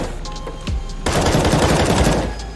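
An automatic rifle fires a rapid burst in Counter-Strike: Global Offensive, a loud, dense rattle of shots lasting over a second after a few scattered single reports.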